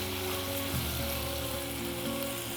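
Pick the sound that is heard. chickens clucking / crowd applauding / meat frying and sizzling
meat frying and sizzling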